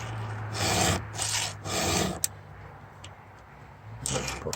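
Hand file rasping across a chainsaw chain tooth, several rhythmic strokes of scraping grit with brief pauses between, close and clear, ending with a sharp tick and a final stroke.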